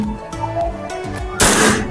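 A single gunshot fired at a target during a test of a tactical rail-mounted laser sight, landing as a sharp loud crack near the end after steady low background tones.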